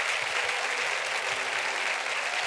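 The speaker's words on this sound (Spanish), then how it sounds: "Ah, que sí saben aplaudir." A church audience applauds steadily, a dense wash of many hands clapping at once, even and continuous across the short span, moderately loud and without speech over it.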